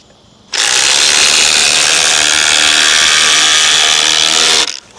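A Milwaukee impact driver hammers a fastener home in one loud, continuous burst of about four seconds, starting and stopping abruptly, with no talking.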